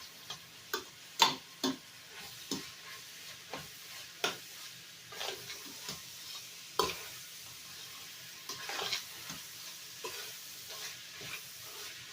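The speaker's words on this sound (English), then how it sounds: "you just want to warm that bacon through and finish off that hamburger meat" Bacon and hamburger meat for a meat lovers pizza casserole warm in a pan with a low, steady sizzle, broken by a string of sharp spatula scrapes and taps spread across the stretch; no one talks.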